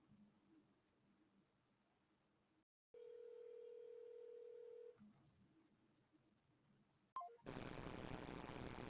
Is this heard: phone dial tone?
yes